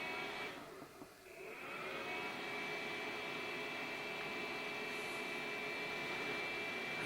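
A budget Dr Q HI-04 projector runs after being switched on, giving a steady fan whir with a faint high whine, continuous and fairly close.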